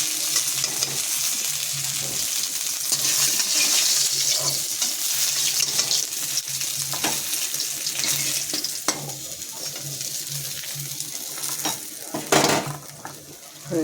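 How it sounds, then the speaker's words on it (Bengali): Fish fries in hot oil with a steady, dense sizzle. Stirring scrapes and a running-water wash sound join in near the end. "ভাজা হয়ে গেছে।"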